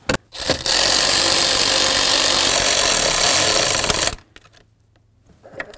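A loud, steady run of mechanical grinding and rubbing lasting about four seconds, then stopping abruptly, as bolts are snugged down to mount the hood latch handle on a 1994-2004 Chevy S-10; no talking.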